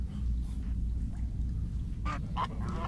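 Cartoonish duck quacks from a video game, a few short bright calls arriving late over a steady low game soundtrack and noise bed.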